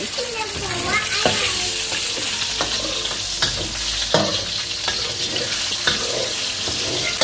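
Egg is poured into a hot pan and stir-fried with sesbania flowers, giving a loud, steady sizzle close by, punctuated by several sharp spatula scrapes and knocks against the pan.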